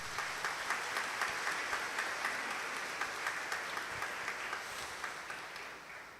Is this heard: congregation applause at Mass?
yes